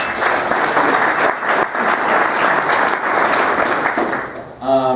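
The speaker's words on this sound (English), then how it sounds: "let's give them a round of applause" Audience applause for members of Local 150, a union group, at a Workers Memorial Day gathering in Syracuse: dense, steady clapping held for several seconds before a voice begins to speak at the end.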